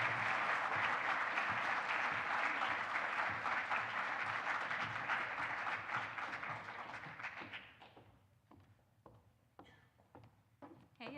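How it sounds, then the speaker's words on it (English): Audience applause welcomes a speaker at a campus event on game night, a dense, loud wash of clapping that holds steady for several seconds and then thins into scattered claps and quiet. "please give Sequoia Maynor a big KU round of applause"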